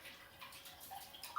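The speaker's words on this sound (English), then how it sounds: "And then I just rinse." Dry sea moss rinsed under running kitchen water gives a faint, steady hiss of flow with soft splashes and drips, close by and quiet, with no voices.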